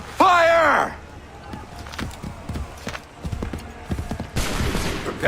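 Massed musket volley in the video game Assassin's Creed III: a shouted order comes first, then scattered sharp reports and hoofbeat-like thuds, ending in a loud, sustained crackling volley.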